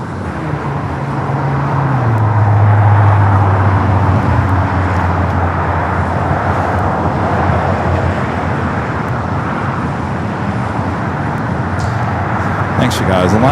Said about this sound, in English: Next takeoff here on the south side is Moxie Breeze Airbus A220-300